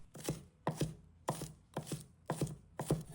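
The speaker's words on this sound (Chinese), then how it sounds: "几根葱白，把它切成小粒。" Knife chopping scallion whites into small pieces on a cutting board: crisp, close, regular strikes falling in quick pairs about every half second, with no talking.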